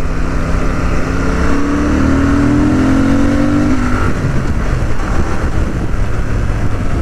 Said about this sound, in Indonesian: Dan dengan knalpot standar pun suara raungannya masih cukup oke.